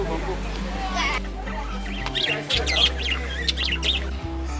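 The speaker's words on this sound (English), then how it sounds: "Sea eagle." A sea eagle at a zoo gives harsh squawking calls, several in a row, mid-distance over a steady low hum and background voices.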